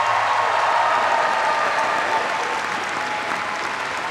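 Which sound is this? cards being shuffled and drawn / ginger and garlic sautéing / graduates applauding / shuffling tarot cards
graduates applauding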